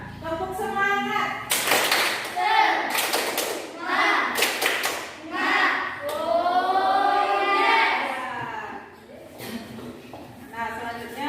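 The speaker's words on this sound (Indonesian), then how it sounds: "Sekarang coba tepuk semangat." Schoolchildren in a classroom performing the tepuk semangat clapping chant, with bursts of rhythmic group claps and thumps interleaved with their chanted voices, lively and close.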